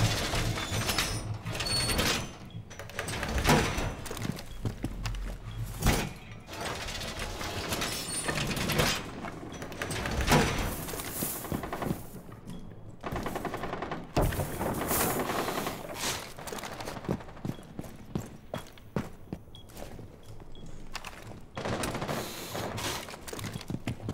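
Reinforcing a wall in Rainbow Six Siege: a long run of metallic ratcheting and clanking mechanical sounds, with sliding and grinding scrapes repeating over about twenty seconds, moderately close and without speech.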